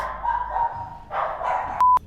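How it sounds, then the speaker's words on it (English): A dog barks a few short, sharp yips close by, followed by a brief high whine. "Sorry about my dogs."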